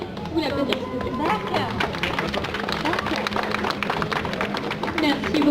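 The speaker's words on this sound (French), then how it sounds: "Vous l'applaudissez s'il vous plaît" Audience claps for a punk Lolita model walking at a Lolita fashion show at a Japanese culture festival, brisk dense applause throughout with a few cheers mixed in, close and fairly loud.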